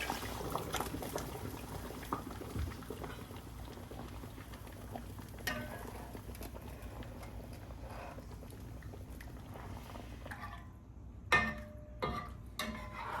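Seitan braising liquid bubbling and sizzling in a hot pan, a soft, steady low simmer through most of the clip, ending in a few sharper spits and pops near the end.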